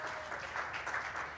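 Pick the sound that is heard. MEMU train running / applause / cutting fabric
applause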